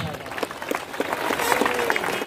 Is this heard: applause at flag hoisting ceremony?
yes